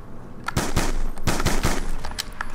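A PDW submachine gun fires in Black Ops 2 Zombies on the Die Rise map, loud rapid bursts of close shots in quick succession with a few separate pops toward the end.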